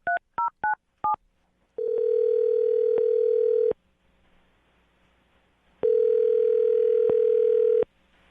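A telephone call being placed: four quick touch-tone dialing beeps, then two long ringback tones separated by a silent pause, loud and close with no voices.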